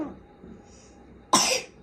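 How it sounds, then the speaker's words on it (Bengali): A child's single sharp cough rings out near the end, close by, after a stretch of quiet room noise. "কাশি হয়েছে তোমার"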